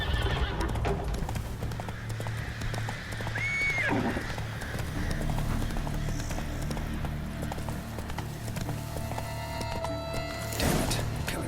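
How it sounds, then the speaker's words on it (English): A horse gallops in The Witcher 3, with rhythmic hoofbeats throughout, a short whinny near the start and ambient game sound underneath. "Run, Roach."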